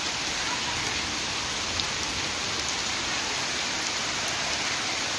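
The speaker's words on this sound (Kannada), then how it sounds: "ಮಳೆ ನೋಡ್ರಿ ಫ್ರೆಂಡ್ಸ್ ಎಷ್ಟು ಜೋರು ಸ್ಟಾರ್ಟ್ ಆಗಿದೆ" Heavy rain pours down steadily in a continuous dense hiss, close and loud throughout, with no voices over it.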